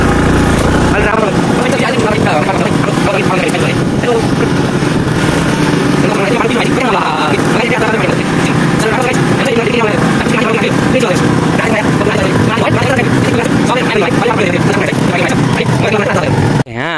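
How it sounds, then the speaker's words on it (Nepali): A small motorbike engine drones loud and close throughout a ride, a continuous buzzing rumble mixed with wind noise that cuts off abruptly at the end. "यहाँ बाइक यता यस्तो सानो फटफटे बाइकमा एउटा हातले यहाँसम्म आएको छु"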